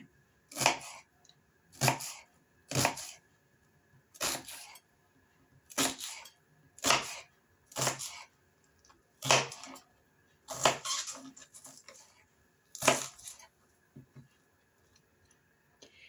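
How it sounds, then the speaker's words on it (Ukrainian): A knife chops onion on a board for mushroom soup: about a dozen sharp, close chops in an irregular rhythm, each with a clear pause between, with no talking. "Тим часом будемо нарізати цибульку для зажарки."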